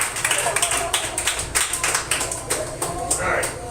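Live audience at a weekly stand-up comedy show clapping for a comedian, a steady patter of many hands at moderate distance, fairly quiet.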